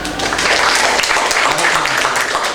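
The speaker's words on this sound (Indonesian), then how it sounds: "Tepuk tangan untuk ini." Students at a state-defence briefing for junior high school OSIS leaders clap together in a hall, a loud, dense burst of applause filling the whole moment with faint voices underneath.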